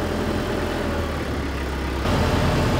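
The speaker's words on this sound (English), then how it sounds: "This has a lot more power than the other tractor" A tractor engine, stronger than a second tractor on the same farm, runs with a steady, loud, close rumbling drone that swells a little louder near the end, with no voices.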